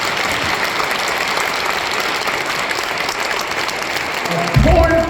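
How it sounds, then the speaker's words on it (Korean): Church audience applauding Dr. Kim Woo-shin, a steady wash of clapping from many hands that carries on throughout, with a louder burst of noise near the end. "아무튼 박수해 주시기 바랍니다"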